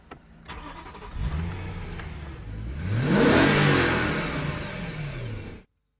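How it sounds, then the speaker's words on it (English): A BMW M3's naturally aspirated 4-litre V8 cranks and catches, settles briefly, then revs hard twice with a rising, throaty roar before cutting off abruptly. "we got the BMW M3, the new model. Okay. And just open your ears and hear. Let's start the engine."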